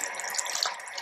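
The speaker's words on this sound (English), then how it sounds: "just rinse it with some hot water" Hot tap water running over an electric toothbrush head being rinsed, a steady close splashing hiss with small drips.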